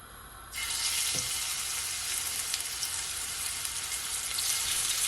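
Steak goes into hot olive oil in a pot on a stove and a loud sizzle bursts in at once, then holds as a steady bright crackling fry with a small knock of the meat landing.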